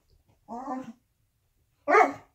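A dog begging for ice gives two short, separate bursts of barking and whimpering, close and fairly loud, with a quiet pause between them.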